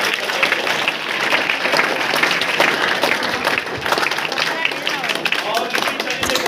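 A hall audience at a Mother's Day welfare foundation event claps steadily and densely for two mothers, the applause continuous and fairly loud with voices talking over it.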